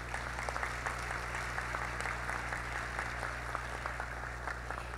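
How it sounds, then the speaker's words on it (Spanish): Applause from an audience at a corporate social responsibility award ceremony: many hands clapping in a steady, even patter that lasts throughout, over a low constant hum in the hall. "Un fuerte aplauso para ellos"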